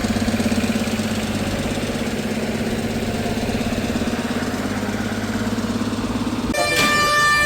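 A Tata bus rumbles at the Davangere bus stand, its steady mid-pitched engine drone running close and continuous before a horn-like tonal blast cuts in near the end.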